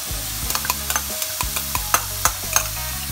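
Bangus (milkfish) sisig being mixed with a half teaspoon of mayonnaise, with a run of close, sharp scraping and tapping strokes from the utensil, steady and fairly loud, with no one talking.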